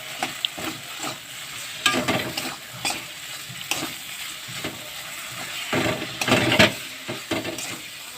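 A mustard and poppy seed paste sautés in a pan for a fish dish, with a soft steady sizzle and frequent scraping, knocking stirs coming in uneven bursts, close up and without speech.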